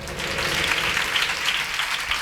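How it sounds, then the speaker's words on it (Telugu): Church congregation clapping during a sermon, a steady dense wash of applause that stays even and fairly loud throughout, with no speech over it. "గట్టిగా చప్పట్లు కొట్టండి"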